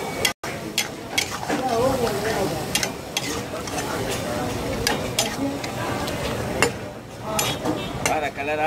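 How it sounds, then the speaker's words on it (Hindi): Karahi sizzles steadily in the pan after fresh cream is added, with repeated stirring and occasional metallic clinks of a spoon against the pot, loud and close throughout. "फ्रेश क्रीम ऐड करने के बाद तकरीबन 5 से 6 मिनट के लिए मज़ीद हमें इसे पकाना है और इस दौरान अच्छी तरह से हमें इसे मिक्स करते जाना है"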